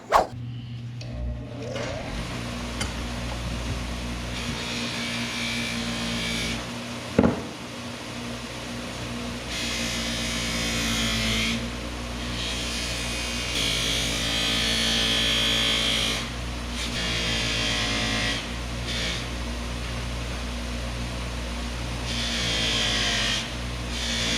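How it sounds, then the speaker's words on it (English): Bench buffer polishing parts for a 1970 Dodge Charger build, a steady motor whine running throughout with intermittent rising grinding passes as pieces are pressed against the wheel. "I'll take this and just run it over the buffer and just see what we have to work with there"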